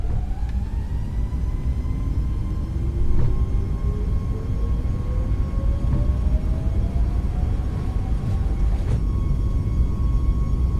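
Engines of a Southwest Boeing 737 MAX in Microsoft Flight Simulator 2024 spooling up to takeoff thrust, a steady loud rumble with a whine that rises gradually in pitch over several seconds.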